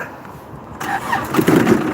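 After a brief quiet moment, a Kubota tractor engine cranks and catches, then settles into a rough, rising idle close by, in winter.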